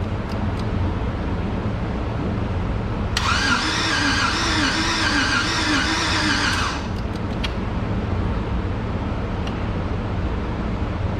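Car engine being cranked over on a project car in a speed shop, a steady mid-pitched churning drone lasting several seconds against a constant background hum.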